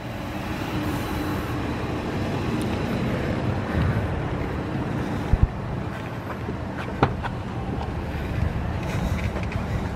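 Steady mechanical rumble and hum from the wheelchair lift on a 2011 Ford E250 conversion van with a VMI lowered floor, running continuously at close range with a few faint clicks and no talking.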